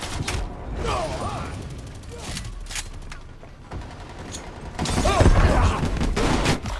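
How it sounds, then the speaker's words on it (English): Rapid gunfire and clattering weapon mechanics in a first-person shooter game, including shotgun blasts, dense and continuous with some talk mixed in. "it's another guy with a shotgun"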